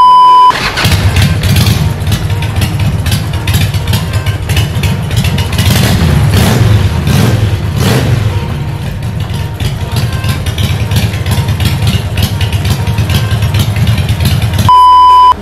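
A large motorcycle engine starts and settles into a steady, loud idle close by, its throbbing rumble running unbroken for about fourteen seconds before cutting off.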